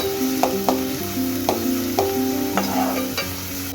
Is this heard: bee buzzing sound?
no